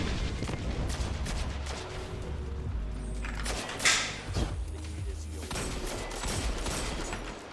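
Rapid bursts of gunfire ring out in a shooter video game, including a sniper, with repeated sharp cracks and a heavier thump partway through, fairly dense and continuous.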